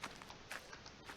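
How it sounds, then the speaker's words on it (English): Footstep sound effects play in a Viking village game, a few soft, irregular steps sounding faint and close with nothing else around them. "just random sounds that you can add with footsteps"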